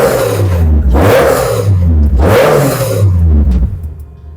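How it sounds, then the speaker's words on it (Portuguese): A Citroen ZX Dakar fitted with programmable fuel injection, its engine blipped hard twice in quick succession, each rev climbing sharply and dropping back to a rumbling idle, loud and close with no voices. "Dá uma aceleradinha aí, Henrique."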